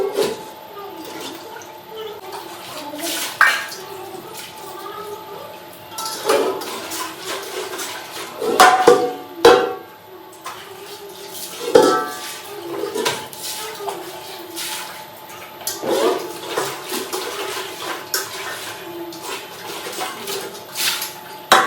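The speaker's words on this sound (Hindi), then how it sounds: "पहले इतने बर्तनों को धो लेते हैं," Utensils, pots and pans are scrubbed and rinsed under water, with steady clinks and clatters of metal, splashing and dripping throughout, and occasional voices faintly in the background.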